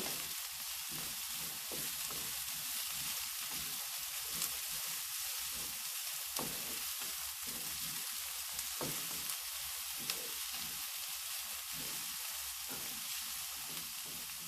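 Onion and carrot fry in a pan with a continuous, even sizzle and crackle, heard close up for a long stretch with no one speaking.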